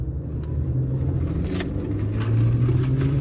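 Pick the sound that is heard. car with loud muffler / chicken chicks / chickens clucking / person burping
car with loud muffler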